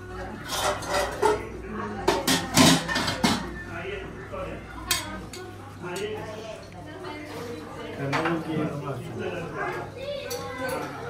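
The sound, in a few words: washing dishes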